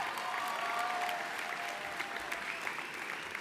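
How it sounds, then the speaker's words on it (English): Audience applause at a general session of a conference, a dense steady clapping from a roomful of people sustained throughout, fairly distant and even. "Let's have a round of applause for John back there"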